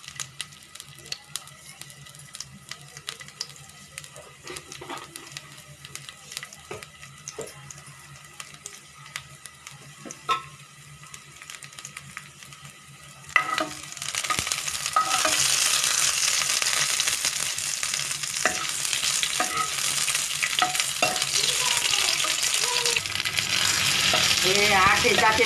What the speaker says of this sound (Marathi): पॅन तापत आलेलं आहे, मोहरी टाकूया आणि लसूण टाकू।